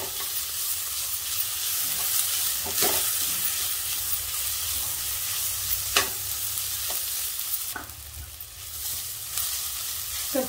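Turmeric tempering for raw mango rice fries in a pan, a loud continuous hiss and sizzle punctuated by several sharp stirring knocks and scrapes, no voices.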